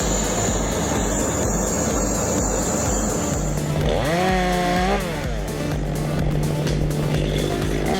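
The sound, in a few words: handheld chainsaw cutting oak tree branches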